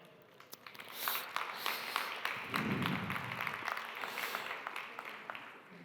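A conference audience gives scattered, fairly quiet applause for speaker Nuria as she takes the stage for a keynote lecture, with individual claps audible at first before they thicken into a soft, sustained patter.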